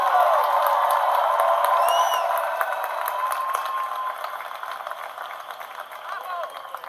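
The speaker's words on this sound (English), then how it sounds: "another round of applause" A large commencement audience applauding steadily, dense clapping that gradually softens over several seconds, with a voice speaking over it.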